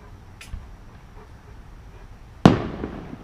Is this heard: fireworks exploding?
yes